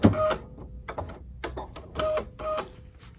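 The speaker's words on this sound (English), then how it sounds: "I'm ready to press my threader button" An automatic needle threader on a Swiss sewing machine works in short mechanical bursts, a few quick clicks and whirs separated by brief pauses, close and fairly quiet.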